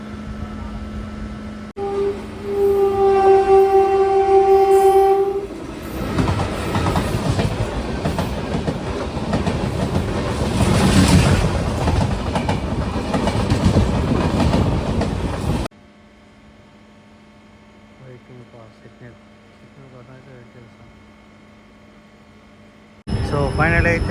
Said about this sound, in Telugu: సో ఫైనల్ అయితే మన ట్రైన్ అయితే తిరుపతికి అయితే వచ్చేసింది